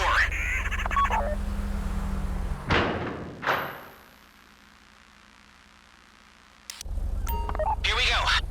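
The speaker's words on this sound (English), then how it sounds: "Take out your phone and trigger the door." In GTA Online, a phone triggers a bank vault door: a couple of heavy thuds and a sliding mechanical slam, then a quiet stretch before loud ambient noise returns, with game voices heard in places.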